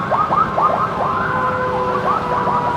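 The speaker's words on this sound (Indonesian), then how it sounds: "di depan ada ambulan, jadi kita harus nunggu dulu" An ambulance siren wailing in Jakarta traffic near the Matraman LRT construction site, its rising and falling tone repeating steadily over a constant rumble of engines, moderately loud and a little distant.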